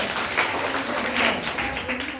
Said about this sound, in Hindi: शाबाश, ताली बजाइए।